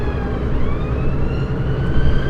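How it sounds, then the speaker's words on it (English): An ambulance siren wails steadily over the rumble of nearby road traffic, its rising and falling tones fairly faint beneath the loud, constant noise of vehicles. "Oh, I think it's an ambulance car."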